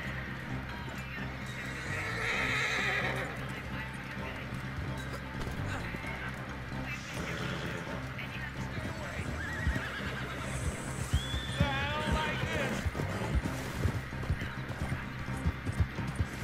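A horse whinnies loudly near the start in Red Dead Online, then hooves clop in a quick, irregular rhythm amid game clatter and a second neigh later.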